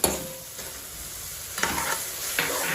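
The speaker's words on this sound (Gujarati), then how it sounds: "હવે આપણે ટામેટા એડ કરી દઈશું" Tomatoes go into a hot pan for a Kathiyawadi green chickpea dal and are sautéed, giving a close sizzle broken by a few scraping stirs of a spoon against the pan.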